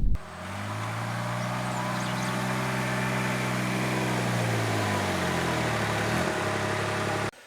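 A Kubota RTV1100C utility vehicle climbs a hill in four-wheel drive high at full throttle with the AC on, its engine droning steadily and close, then its pitch sags as it bogs down before recovering slightly near the end.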